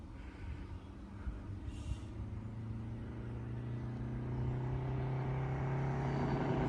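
A 1962 Triumph TR4 engine with Weber carburetors sputters and bogs under open-throttle acceleration after a rebuild, a steady low drone that swells and grows louder toward the end, with no talk over it.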